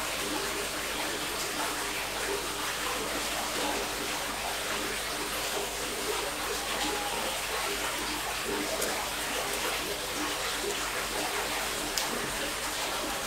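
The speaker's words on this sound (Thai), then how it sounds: "กินข้าวไปด้วยฟังเสียงน้ำตกไปด้วยมีน้ำตกตรงนี้นะครับ" Steady, broadband rush of falling water fills the whole clip, a constant roar with no pauses or other sounds rising above it.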